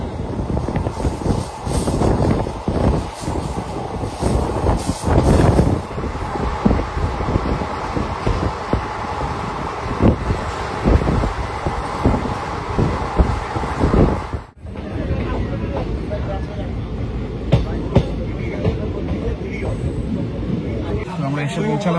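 The Kanchenjunga Express from Sealdah rolls along as heard from inside a sleeper class coach, a constant rumbling clatter with wind rush, loud and close. A voice talks over it early on, and the tone changes abruptly partway through.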